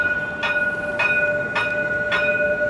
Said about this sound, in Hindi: एक बार ट्राम दिखा देता हूँ मैं कैसा है।